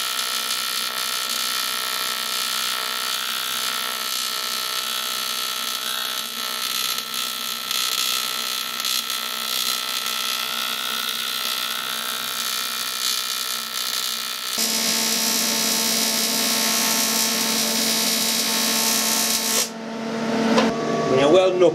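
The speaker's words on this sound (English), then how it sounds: "This is not very good material we're trying to weld here." Welding on a poor-quality metal casting produces a continuous loud buzzing, crackling arc that shifts in tone partway through and then cuts off abruptly near the end, followed by a few brief clatters.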